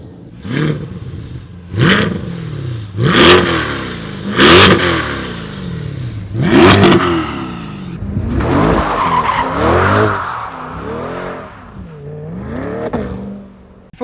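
A 2023 Chevrolet Corvette C8 V8 revs repeatedly in loud, close bursts, about five sharp sweeping rises and falls, followed by a longer sustained run with tire squeal or skid noise near the end.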